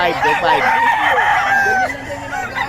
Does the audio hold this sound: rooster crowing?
yes